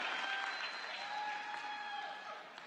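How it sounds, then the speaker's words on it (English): Applause for graduates at a winter commencement ceremony, a steady wash of many hands clapping in a large hall, soft and somewhat distant, continuing evenly without voices. "Let's give them a well-deserved round of applause."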